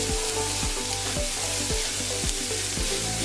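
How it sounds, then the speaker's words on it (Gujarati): Chopped capsicum stir-fried in a hot pan for sooji upma, with a steady bright sizzle and rhythmic scraping strokes of a spatula roughly every half second, close and loud, without talk. "હવે આપણે એમાં કેપ્સિકમ એડ કરીશું. હવે બધું બરાબર મિક્સ કરી લઈશું."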